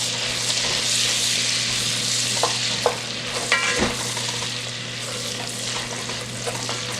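Onions frying in a pan for collard greens and cabbage, a steady loud sizzle with stirring scrapes and occasional clinks of the spoon against the pan.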